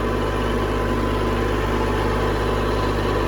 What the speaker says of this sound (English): It's a nice little diesel Kubota tractor. It runs really good.